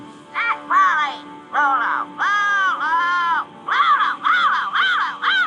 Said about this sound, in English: Oh, it's just a parrot.